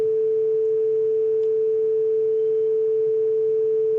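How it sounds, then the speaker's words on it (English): A steady, unbroken pure tone from a sine wave generated by code running on a Raspberry Pi, holding one constant pitch throughout over a faint background hum, with no voices. "we can generate a sine wave."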